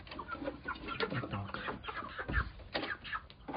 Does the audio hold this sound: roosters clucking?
yes